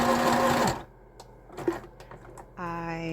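A sewing machine stitches fabric in a close, rapid whirring burst, falls quiet for a couple of seconds with faint handling noises, then starts up again.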